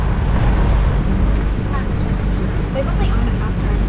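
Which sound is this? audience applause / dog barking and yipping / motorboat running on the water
motorboat running on the water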